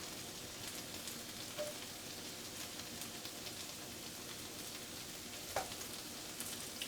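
Potatoes fry quietly in a pan, a soft steady crackle and sizzle with a couple of faint clicks, heard alone without speech.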